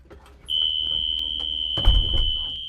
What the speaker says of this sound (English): The alarm sounded and opened freely.